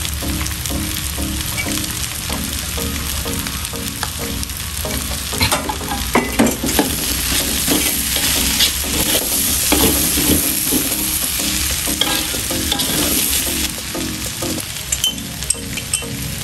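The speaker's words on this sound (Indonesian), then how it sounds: "Aduk-aduk hingga bumbunya tercampur merata" Vegetable pastry filling with curry spices being stirred in a hot pan, with a spatula scraping steadily through a continuous loud sizzle, close up and without talk.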